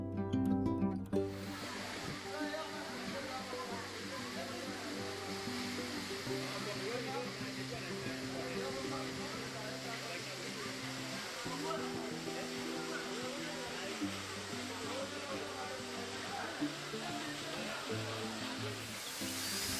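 Madhabkunda waterfall pouring down the Patharia hills in an eco-park: a constant broadband roar of falling water, steady throughout and partly masked by tonal background music.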